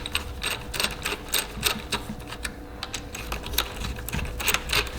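A ratchet or wrench clicks in rapid bursts while bolts are tightened on the handlebars of a Sur Ron Ultra Bee electric dirt bike, close and crisp against a quiet workshop background.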